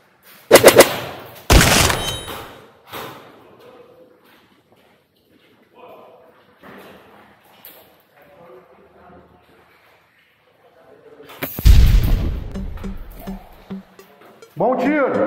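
Gunfire in a shooter video game comes as loud, sharp bursts, with two quick blasts at the start and another heavy volley near the end, separated by quieter stretches of game noise.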